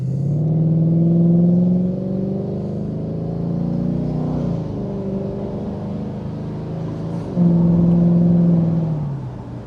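A Jaguar XK8 convertible's V8 engine hums steadily while cruising with the windows up, with a smooth low drone that rises in pitch as it accelerates and gear changes shifting the tone.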